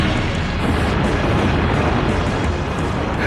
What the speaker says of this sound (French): Tu entends ces explosions?